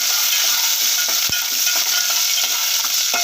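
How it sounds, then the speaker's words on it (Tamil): Green chillies and onion sauté in a pan with a loud, continuous close-up frying hiss, punctuated by regular spoon scrapes and taps against the pan, one sharper knock standing out, no voices. "மிளகா நல்லா வதக்கி விட்டுறலாம்."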